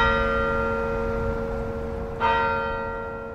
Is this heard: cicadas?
no